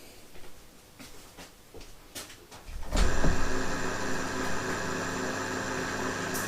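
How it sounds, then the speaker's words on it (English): A floppy disk drive on an Intel MDS-800 clicks softly, then spins up suddenly and settles into a continuous steady whir with a faint mechanical hum. "the drive's spun up now, and these sort of drives actually run continuously. That's what you can hear it spinning"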